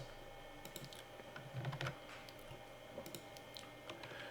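Quick, quiet taps on a computer keyboard come in an uneven run while a spreadsheet formula is entered, heard up close with no talking.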